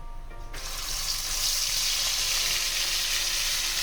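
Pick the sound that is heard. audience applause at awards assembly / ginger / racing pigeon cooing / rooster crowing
ginger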